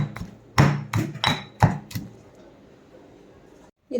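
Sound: crushing ingredients with rock salt for crab gravy

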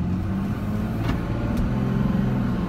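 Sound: Ram 3500 turbo diesel truck engine running

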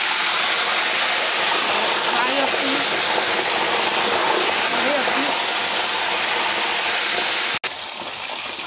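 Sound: bonga fish frying in a pot

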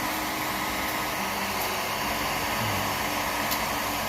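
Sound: hot air blowing around a bottle to shrink its capsule seal

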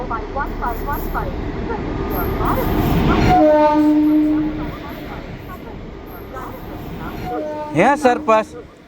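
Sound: train at a railway station

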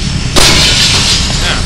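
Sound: gunshot in video game Splinter Cell

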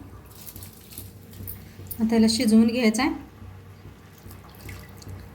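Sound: water poured off soaking basmati rice

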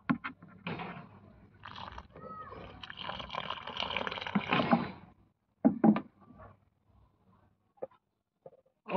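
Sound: watering a tomato plant on a rooftop garden

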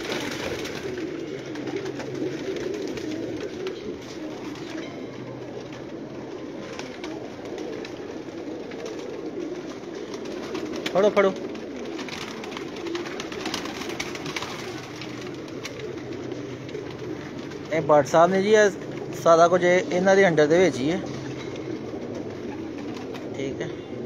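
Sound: pigeons cooing

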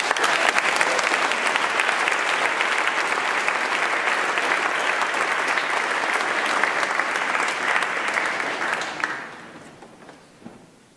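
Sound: audience applause at school concert

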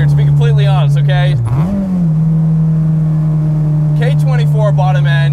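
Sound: Acura RSX built K24/K20 engine revving

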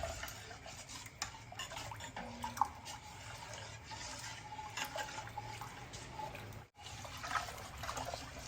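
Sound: ragi batter poured into boiling water and stirred

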